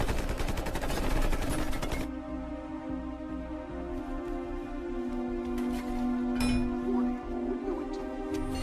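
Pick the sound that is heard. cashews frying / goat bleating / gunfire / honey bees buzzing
gunfire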